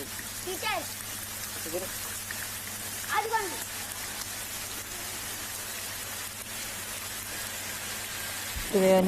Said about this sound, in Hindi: आकाशरू माछ वर्षा होउछंती